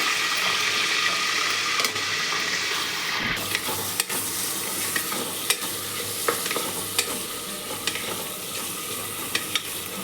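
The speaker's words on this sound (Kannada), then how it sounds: "ಈರುಳ್ಳಿ ಕರಿಬೇವು ಇಷ್ಟು ಎಣ್ಣೆಗೆ ಹಾಕ್ಕೊಂಡು ಫ್ರೈ ಮಾಡ್ಕೋತೀನಿ" Green chilies, onion and curry leaves fry in oil for a vegetable biryani, a dense steady sizzle close by, with a sharp burst as ingredients hit the pan and scattered spoon clinks while stirring, no talk.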